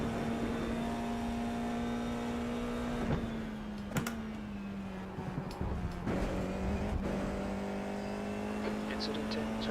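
A race car engine in the iRacing sim on the Charlotte Roval holds a steady drone that dips slightly and recovers, with a few sharp clicks and a person talking quietly over it.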